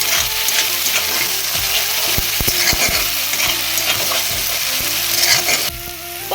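Onion, green chili, ginger and two cloves of garlic frying in a pan, a steady loud sizzle with repeated scraping stirs of a spatula, the hiss dipping slightly near the end.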